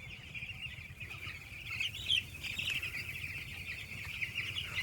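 Chickens on a village poultry farm cluck and chatter faintly, with a steady high-pitched flock din and occasional wing flutters, quiet and continuous, no voices.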